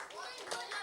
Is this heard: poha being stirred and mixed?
no